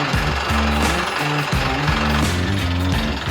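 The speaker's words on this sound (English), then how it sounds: "Then continue drilling the inner casing through the grout." A Mincon telescopic well drilling rig drives casing through grout, giving a loud, close, continuous percussive hammering with a rapid regular rhythm and repeating pulses, no voices.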